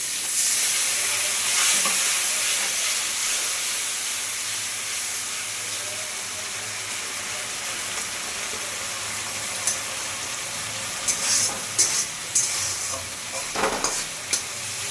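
Mustard paste in a pan, ready for a pabda fish curry, sizzles and hisses steadily after a little water is added. A continuous frying fizz is heard up close, with faint clinks of a spatoon stirring toward the end.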